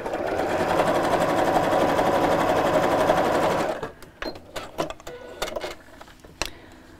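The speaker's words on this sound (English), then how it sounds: "I'm just sewing this on plain fabric so you can see the stitch." A domestic sewing machine runs a stretch zigzag stitch on plain fabric: a steady, fast mechanical whirring for nearly four seconds stops, followed by quieter clicks and handling taps.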